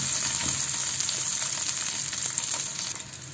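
Chopped garlic frying with vegetables, a steady bright sizzle close by with faint stirring clicks, no talk over it.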